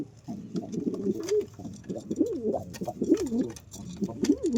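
Pigeons in a loft coo continuously, their throaty, rolling calls rising and falling in overlapping phrases, close and fairly loud with no talk over them.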